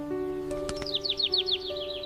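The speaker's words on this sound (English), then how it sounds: "The bird says, Tweet. Tweet." Bird chirping in a quick run of bright, repeated tweets that climb toward a steady rhythm, set over a faint sustained background tone and a few soft clicks.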